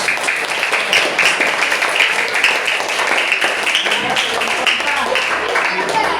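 A classroom of students clapping their hands together, a dense, steady patter of claps lasting several seconds with a faint murmur of voices mixed underneath.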